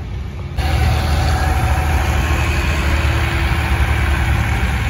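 Tractor engines idling at the Jacktown antique engine show during a tractor pull, a loud, steady low rumble that kicks up abruptly after a softer start and then holds a constant throbbing drone with no talking.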